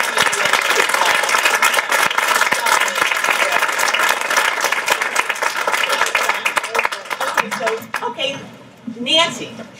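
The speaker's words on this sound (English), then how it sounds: "what we need to do is give Joi a tremendous round of applause" A crowd at a women's leadership event breaks into loud, sustained applause and clapping that fades toward the end as voices begin to speak.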